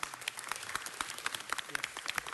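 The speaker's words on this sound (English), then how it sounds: "Let's give them all another round of applause." Applause at a city council meeting, a scattered round of hand claps at moderate level with sharp individual claps standing out, mixed with faint room murmur.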